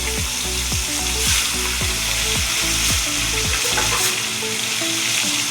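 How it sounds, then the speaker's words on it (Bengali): Koi fish dropped into hot oil in a kadai, setting off a loud, dense, steady sizzle right up close that continues unbroken to the end. "এদিকে আমার কড়াতে তেলও গরম হয়ে গেছে তেল গরম হয়ে গেছে মাছটা ছেড়ে দিলাম"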